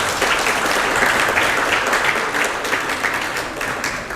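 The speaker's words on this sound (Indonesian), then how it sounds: "Tepuk tangan." Dense, steady applause from an audience fills the whole stretch at an opening ceremony of a foundation staff-development event at Wahid Hasyim II Benowo school in Surabaya, loud and continuous without breaks.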